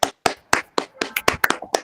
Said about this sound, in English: Please clap for them and appreciate them.